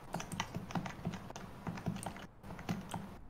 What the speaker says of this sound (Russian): Ой, ебать, это кто-то кликает.